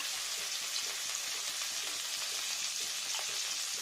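Onions and ginger paste frying in raw mustard oil for a rohu fish curry, a steady dense sizzle running unbroken and fairly close, with no voices.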